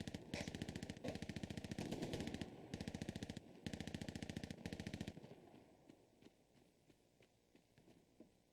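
Machine gun fire in the Hell Let Loose video game: loud, rapid bursts of shots broken by brief pauses over about five seconds, then quieter scattered distant shots.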